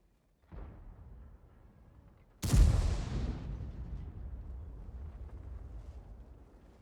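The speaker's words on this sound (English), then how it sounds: "It looks like the Conway is firing the 120." The main gun of a Conway tank fires in a tank video game. After a quiet rumble, a single loud, sharp blast hits and then rolls off into a long, booming decay.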